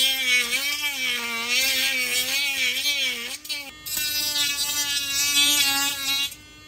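A Dremel Stylo rotary tool whines loudly up close, its pitch wavering as it cuts a hole in plastic for a 1973–87 Chevrolet GMC digital dash cluster, with a brief dip before the buzzing resumes.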